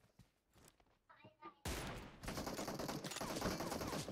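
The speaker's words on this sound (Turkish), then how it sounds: "bu atışlar ne ya" Gunfire in the mobile game PUBG Mobile starts faint with scattered shots and voices, then bursts into a loud, sustained rapid volley of automatic fire that continues to the end.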